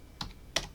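Two brief clicks of typing on a computer keyboard, close and quiet, with a short gap between them and no talk.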